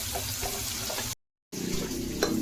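Mutton pieces frying in a pan for mutton chukka, a steady close sizzle and hiss with stirring scrapes, broken by a brief silent gap before the sizzling resumes louder.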